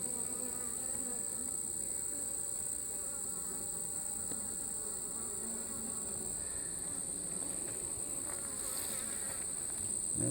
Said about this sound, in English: There's a bee with pollen, so they're bringing in some pollen.